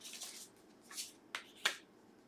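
Tarot cards shuffled and drawn by hand: four short, soft papery flicks and riffles in a quiet room, with the last two sharper and closer.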